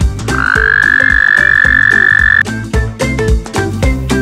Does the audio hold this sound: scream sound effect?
no